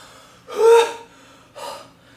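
A person breathes out forcefully during an abdominal exercise, giving two sharp, close breaths, the first longer and stronger than the second.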